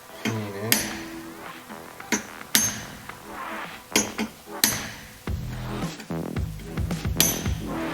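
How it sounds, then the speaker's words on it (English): Hammer striking a center punch to peen a nut on a Porsche 915 transmission input shaft: about a dozen sharp metallic blows at an irregular pace, close and ringing, with brief clinks and short pauses between strikes. "I'm just going to take my center pop and peen in."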